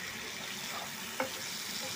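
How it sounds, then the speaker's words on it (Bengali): Steady, close sizzling of chicken and potatoes frying in a pan fills the whole stretch, with one brief scrape of a utensil partway through. "মাংসটা দেখতে পাচ্ছেন পুরোপুরি ভাজা হয়ে গেছে।"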